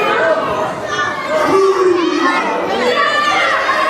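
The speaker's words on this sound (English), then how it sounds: "And now the crowd trying to get at the Strode" A wrestling show crowd shouts and yells in a dense, continuous roar of many voices, loud and close, with excited cries rising above the mass of chatter.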